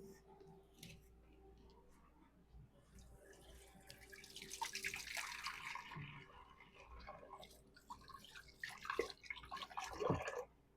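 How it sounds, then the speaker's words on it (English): Tap water running as a hand is rinsed after handling meatloaf mixture in a kitchen, a quiet splashing trickle that grows busier midway, with a few clinks and drips. "Take this glove off, rinse my hand off."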